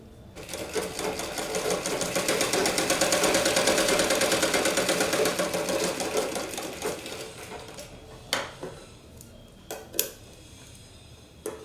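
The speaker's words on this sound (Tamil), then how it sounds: "இப்போ இந்த தையல் போட்டு எடுத்துட்டோம்" A sewing machine stitches a blouse sleeve, running in a steady rapid whir that builds and holds for several seconds, then slows and stops, followed by a few faint clicks and handling knocks.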